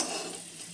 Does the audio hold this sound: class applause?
no